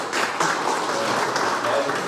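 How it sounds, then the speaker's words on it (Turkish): Audience applause at a general assembly of the association GİAD, where a new chairman is chosen, steady dense clapping for about two seconds with no pause and no talk. "Alkışlara selamlar"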